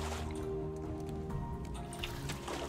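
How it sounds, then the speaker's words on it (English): Water being topped up in the survival game Raft, a short stretch of liquid trickling and dripping over a steady game background hum. "Let's get our water topped up."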